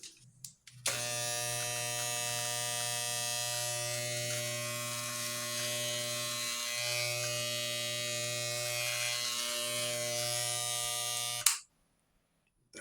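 An oiled hair clipper blade runs with a steady, close electric buzz for about eleven seconds, briefly dipping in pitch a couple of times before cutting off abruptly.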